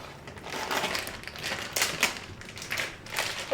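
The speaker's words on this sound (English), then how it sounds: "I just roughly cut them into slices of sorts." A knife cuts mozzarella into rough slices on a board, producing uneven soft crunching chops and taps, close and moderately loud, with no talking.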